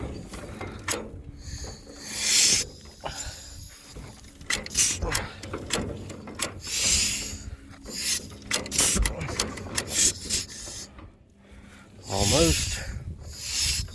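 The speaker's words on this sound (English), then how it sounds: "Now the only thing we need to do is turn the flywheel." Someone manually turns the flywheel of a 1924 John Deere D tractor, giving irregular mechanical rubbing, clunking and ratcheting bursts with short pauses, close by and fairly loud.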